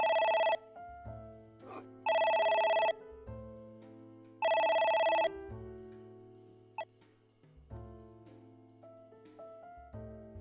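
A telephone rings in the video game Ai: The Somnium Files, sounding a melodic electronic ringtone in three loud bursts over a soft background music bed, then fading out as the call goes unanswered.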